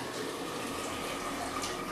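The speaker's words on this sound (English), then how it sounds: "let's just strain it" Homemade chicken soup drains through the strainer built into a pot, giving a soft, steady pour and trickle of liquid with no pauses. No one speaks over it.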